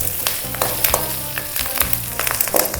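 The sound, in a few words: frying sesame seeds and curry leaves in a pan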